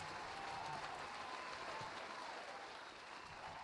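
A studio audience claps steadily in a short, even burst of applause, moderately distant and without pauses.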